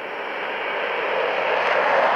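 A Tu-134 airliner flies overhead with a steady, broad jet roar that swells slightly louder toward the end, with no voices.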